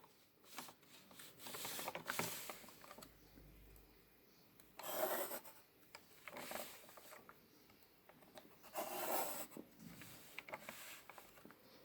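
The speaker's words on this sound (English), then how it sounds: "I'm gonna draw 90-degree lines from each point of the cut that I have" A pencil scratches lines along a set square on paper while drawing a geometry construction: faint, intermittent rasping strokes in short bursts, with soft shuffles of the ruler being repositioned in between.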